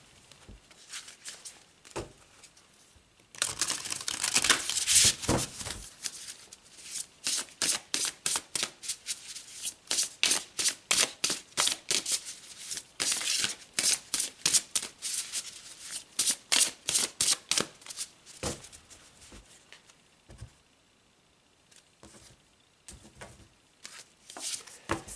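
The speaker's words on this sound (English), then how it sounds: "Let's pull some more cards." Tarot cards are shuffled by hand, close and alone, in long runs of rapid riffling flutters. Short pauses and soft handling noises separate the runs.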